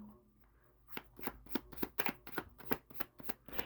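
A deck of cards riffle-shuffled and bridged a few times in quick crisp bursts, close and fairly quiet, no talking.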